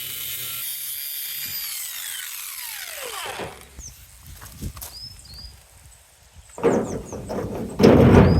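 Spare tyre bolts on an old Ford Transit Connect van being cut to length with a power tool, a loud rising whine and grinding rasp that fades out, followed by bursts of harsh cutting noise near the end.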